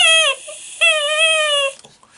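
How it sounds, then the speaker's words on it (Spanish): A homemade reed whistle, made from a small straw taped to a shampoo bottle, gives two high, thin, wavering toots, the second one longer, loud and close. "Suena así agudo porque lo que está sonando es esta cañita."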